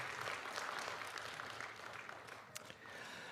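A church congregation at a New Year's Day service applauds together, a steady wash of many hands clapping at moderate volume that thins slightly toward the end.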